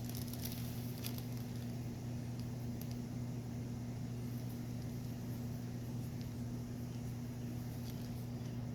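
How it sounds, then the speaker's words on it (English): Rain falls outdoors in a steady, faint patter, with a constant low hum running underneath and no voices. "I mean the rain comes every time I step outside the door. It starts raining."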